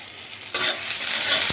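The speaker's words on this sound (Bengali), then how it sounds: "এখন পেঁয়াজ আলুটা ভাজা হবে তার জন্য পেঁয়াজ দিয়ে দিলাম" Onions for a potato dish hit hot oil with a sudden loud sizzle that keeps hissing, followed by a brief knock near the end.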